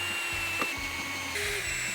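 A power drill running at its lowest speed setting, with the clutch set to about 10, hums steadily and close by, with a faint knock partway through.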